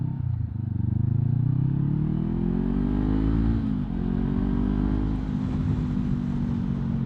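A 500cc motorcycle rides along a road in Thailand, its engine a steady, close drone that rises in pitch as it accelerates and eases between gears, with wind rushing past.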